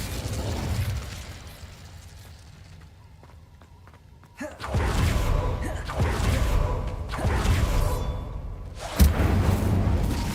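The Incendio fire spell is cast in Hogwarts Legacy, with a sudden whooshing burst of flame and heavy thumping impacts amid loud combat noise, followed by another sharp blast near the end.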